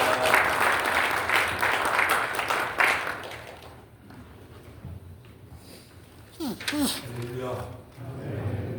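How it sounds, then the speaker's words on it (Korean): A church assembly at a regular general meeting in Seoul applauds as the association's president pastor comes forward: dense, steady clapping fills the first few seconds, then fades and gives way to someone speaking. "우리 회장 목사 나오실 때 박수로 격려하겠습니다."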